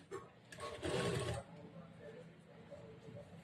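A sewing machine sets long stitches on a blouse sleeve, a short loud burst of motor whirring lasting about half a second, then quieter room sound with faint background noise.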